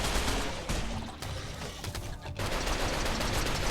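Rapid, dense gunfire in the colony game Rimworld, a continuous rattling barrage of shots that runs nearly unbroken through the clip, loud and close with only brief dips.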